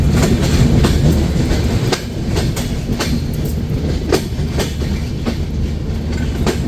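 The Kapotaksha Express rolls through Noapara railway station with a steady loud rumble and rhythmic clickety-clack of wheels over rail joints, heard from aboard, in rain.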